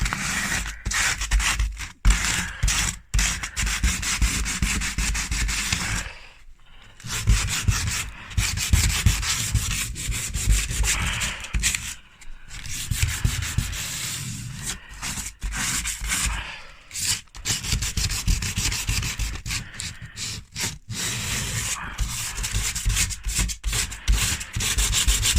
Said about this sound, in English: you can just use the sandpaper, roll it up,